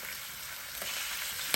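Oxtails browning in a Power XL cooker, a fairly faint but continuous sizzle with a small knock right at the end.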